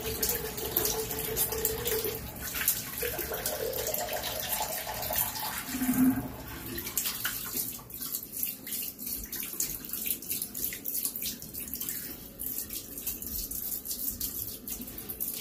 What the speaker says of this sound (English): I'm going to go ahead and cold water rinse now.